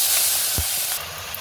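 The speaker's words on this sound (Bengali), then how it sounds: "টমেটোটা ভালো করে ভেজে নেব।" Tomato paste hisses and sizzles in hot oil with ginger and green chilli paste, a steady close frying noise with one soft thump partway through and no talk.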